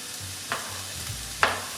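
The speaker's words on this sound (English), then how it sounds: "you can hear that beginning to sizzle now" Roughly chopped leftover vegetables start to sizzle in a hot pan for orzo with tomato sauce, giving a quiet steady hiss with a couple of soft stirring scrapes and a brief clatter near the end.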